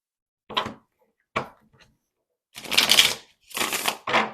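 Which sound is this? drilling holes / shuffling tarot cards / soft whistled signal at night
shuffling tarot cards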